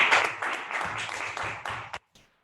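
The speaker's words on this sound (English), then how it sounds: "Let's welcome Toastmaster Gaurav Badri with a huge round of applause." Audience applause welcoming Toastmaster Gaurav Badri at a hybrid Toastmasters meeting: a steady, dense round of clapping for about two seconds that cuts off abruptly, followed by a brief faint tail.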